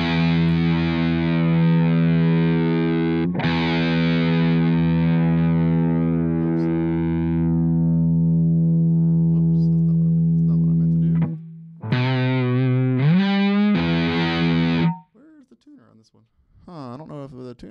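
Distorted electric guitar through a Bias Amp 2 amp model, a long sustained chord ringing out, then a few short picked bursts and bends before fading into silence.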